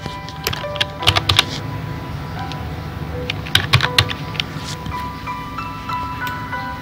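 Someone types a word on a computer keyboard while working in CorelDRAW X7, with irregular clusters of crisp key clicks close by and short pauses between bursts, under a faint room hum.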